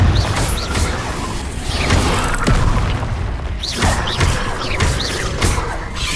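Fiery Confringo spell blasts in Hogwarts Legacy, a string of booming impacts and whooshing bursts with crackling debris, loud and dense over a rumbling game soundscape across several seconds.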